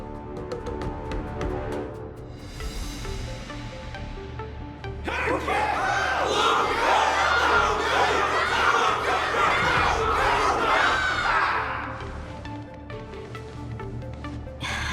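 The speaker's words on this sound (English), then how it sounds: "Can't you hear? Everyone's cheering for you," A large crowd in the video game Honkai Star Rail roars and cheers for Luca, a swelling wave of many voices shouting that rises suddenly, holds loudly for several seconds, then fades back under music.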